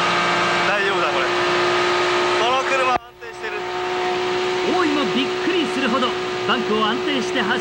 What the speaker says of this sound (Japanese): ちょっとエンジン音がおかしくないかい